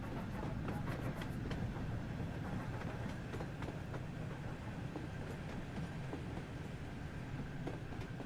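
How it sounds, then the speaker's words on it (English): A steam train in Train Sim World 2 rolls along the rails with a steady rumbling clatter and faint repeated metallic clinks, heard at a low, even level throughout. "Little clinky train."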